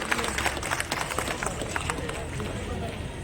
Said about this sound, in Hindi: जोरदार तालियों से आप उनका अभिनंदन करें